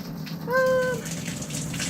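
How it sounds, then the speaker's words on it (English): Water runs steadily from a shower tap, a constant close hiss throughout, while a cat lets out one short, clear meow partway through. "I'm just gonna let this water run for a while until he decides to get out of the way."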